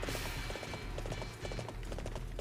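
Horse hooves gallop in a steady, rapid clip-clop rhythm through the Dynasty Warriors 7 Empires video game, up close and continuous over busy background game sound.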